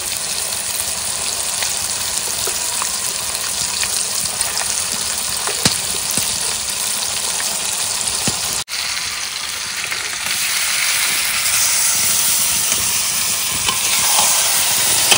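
Spiced fish frying in a pan for a Tamil-style home curry, a loud steady hiss of hot oil running unbroken with one brief dip midway, no speech.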